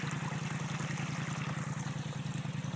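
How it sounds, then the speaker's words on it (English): Runoff water trickling over a small waterfall outdoors after an ice storm, a steady low burbling flow that continues without a break, moderately loud and close, with no voices. "It's kind of pretty though. A little waterfall right there."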